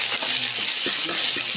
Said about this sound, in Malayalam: കരിവേപ്പിലയും കൂടി ഇട്ട് ഇളക്കി